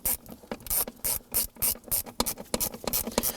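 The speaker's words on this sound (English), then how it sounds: "there is a 8mm bolt right here. Go ahead and pop it onto your ratchet" A quarter-inch ratchet loosens an 8mm bolt on the hood release of a 2015-2020 Ford F-150, giving close, crisp clicking in short uneven bursts with brief pauses between strokes.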